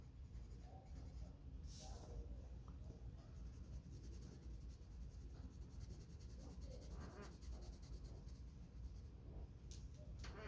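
Pencil shading on paper, a steady soft scratchy graphite rasp that runs continuously and fairly close throughout, with no speech over it.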